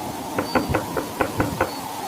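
Seven quick knocks on a wooden door, close and fairly loud, fall in an uneven rhythm over a steady background hiss suggesting a storm outside.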